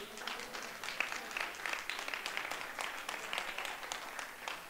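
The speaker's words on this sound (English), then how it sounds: "Okay, stop clapping" A congregation claps during a church live stream, with steady, fairly quiet applause continuing throughout.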